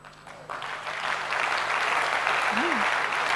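An audience at a talk on positive thinking breaks into applause that swells from quiet to a full, sustained clapping, with a brief tonal murmur near the end.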